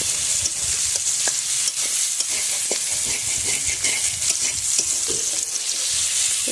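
Onion and garlic fry in hot oil in a pan, giving a loud, steady sizzle close by with scattered crackles and stirring scrapes and no talking.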